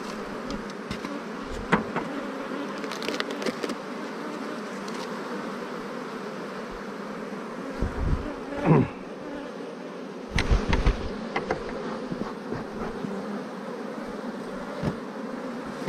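Honey bees hum in a continuous buzz around a hive at an apiary, and a few louder passes come from bees flying close by.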